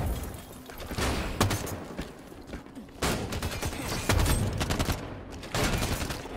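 Gunfire in the video game Halo 5 comes as sustained, loud bursts of rapid automatic shots, broken by brief gaps and some single cracks, dense and close throughout.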